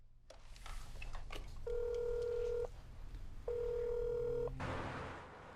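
A telephone call to the Tongyeong branch prosecutor's office, with two long, steady electronic phone tones separated by a short gap over a low background hum. No one speaks.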